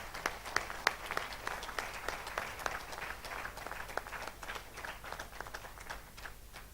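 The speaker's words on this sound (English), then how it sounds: "Can we please give me a hand of applause?" Audience applause at a Pan-African awards summit honouring Bethel Amadi, a steady wash of many hands with sharper individual claps poking through, sustained throughout at moderate distance without speech.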